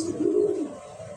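Racing pigeons coo in a low, throaty burst that swells and fades over about a second, close by and alone with no talking.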